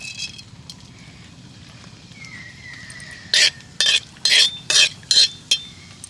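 Whole cumin seeds dropped into a little hot oil: after a quiet stretch of low kitchen hum, a run of about six short, loud sizzling bursts arrives in quick succession near the end, with no talking.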